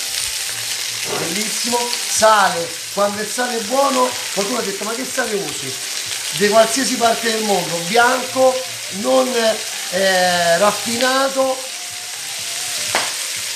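Steady frying sizzle from a pan running beneath someone talking continuously, the hiss staying fairly even throughout.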